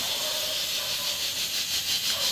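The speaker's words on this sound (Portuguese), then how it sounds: "Vou colocar um fio de azeite" Olive oil sizzles in a hot pan that was just used to cook fish, on a wood-fired stove, a steady, close, bright hiss that continues evenly throughout.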